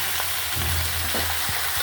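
Mixed vegetables sizzle and hiss in hot oil with salt, turmeric, chili powder and ground coriander-cumin, giving a steady, close frying crackle with low stirring scrapes throughout.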